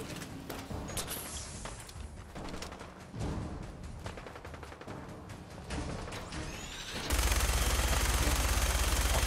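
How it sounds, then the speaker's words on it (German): A minigun fires in Fallout 4 amid scattered game combat noises, then breaks into a loud, sustained, rapid-fire buzz during the final couple of seconds. "Wechseln die Waffe zum Minigun."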